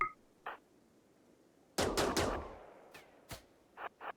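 Gunfire from a colonist shooting at a Mega Sloth in RimWorld: sharp, separate shots, with a dense cluster near the middle and several isolated cracks before and after it over a quiet background.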